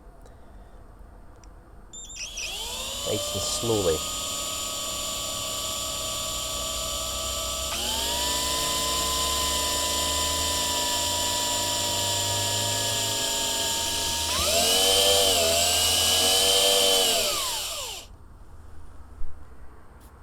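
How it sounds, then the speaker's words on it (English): Small bits drilling a hole into a model railway piece, a steady high whine that runs for about fifteen seconds and shifts pitch in stages as the speed changes, with a brief soft voice at the start. "So I'm going to now drill a hole in. I'm starting off with a smaller drill bit"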